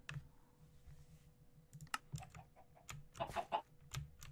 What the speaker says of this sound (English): why do I even have chickens here?